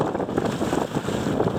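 A wind gust sweeps over a sailing kayak on open water, a steady rough rushing and buffeting against the microphone with faint water noise beneath.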